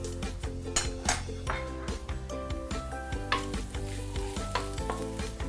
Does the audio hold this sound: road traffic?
no